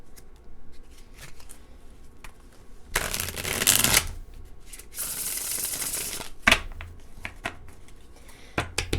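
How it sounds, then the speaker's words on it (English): Tarot cards are shuffled close up in two loud riffling bursts, with quieter card taps, slides and handling clicks scattered around them. "let's get some other tarot cards"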